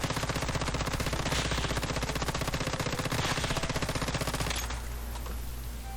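Rapid automatic gunfire rattles nonstop at a training dummy in the video game Once Human, a loud fast stream of shots lasting several seconds before cutting off into a brief fading tail.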